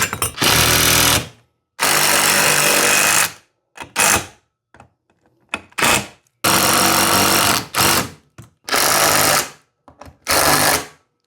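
A power tool drives 13 mm screws into ceiling-mounted hardware for a garage storage rack, in a series of loud, close bursts of rapid hammering and whirring separated by short pauses.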